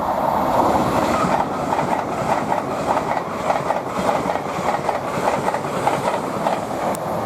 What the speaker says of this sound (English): the next train to pass by, we've got a Azuma, that's the one, from Harrogate to London King's Cross